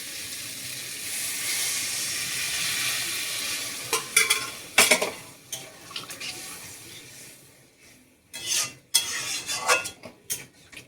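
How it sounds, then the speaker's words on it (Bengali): Water saved from boiling potatoes poured into a pan of dried-down, sizzling masala: a broad steady hiss of steam for several seconds, then close spoon scrapes and clinks against the pan as the hiss fades, with no speech. "এবার আমি এখানে আলু সিদ্ধ করে রাখা যে জলটা রেখেছিলাম সেটা এবার দিয়ে দেব।"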